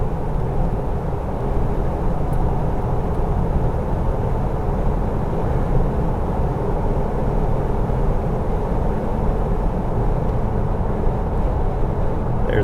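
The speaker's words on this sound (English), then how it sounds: "There's an upshift." A Jeep TJ with 3.73 gears and 32-inch tires drones steadily from inside the cab, a low continuous engine and road hum with no clear break at the gear change.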